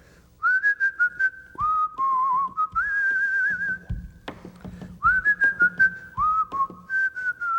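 An Indian film composer whistles a melody alone, clear sustained notes rising and dipping in short phrases with brief pauses between them.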